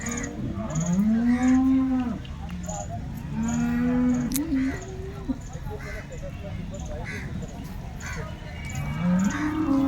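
Several cows for sale moo in long, drawn-out calls, close by, with overlapping lows and background farmyard chatter.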